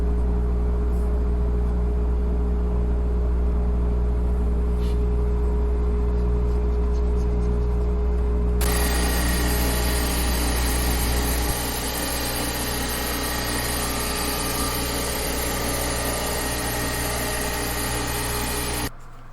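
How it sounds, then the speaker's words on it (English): A drum sander smooths planed wooden parts for a round-end sofa table: a steady machine drone and hum that swells into a loud, hissing sanding roar about halfway through and holds, close and continuous. "to get the perfect fit I ended up using the drum sander"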